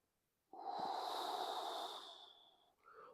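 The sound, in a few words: deep breathing in during a breathing exercise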